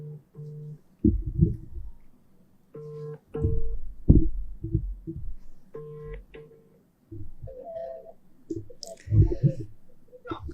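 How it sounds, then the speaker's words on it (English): A telephone ringback tone sounds through a call line as repeated short tonal bursts separated by pauses, mixed with occasional clicks and faint line noise. "It's ringing now."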